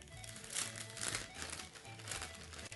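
Someone picks up and crumples a paper bag for a craft puppet, producing close, crackly rustling in uneven bursts with a soft background hum.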